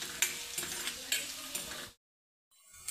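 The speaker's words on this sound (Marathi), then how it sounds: "आता कढीपत्ता घालून घेऊ आपण. 9-10 पानं घेतली कढीपत्त्याची. थोडंसं परतवून घेऊ." Curry leaves and green chillies sauté in a hot pan while khaman is made, giving a crackling sizzle with stirring scrapes for about two seconds before the sound cuts out and a fainter sizzle returns.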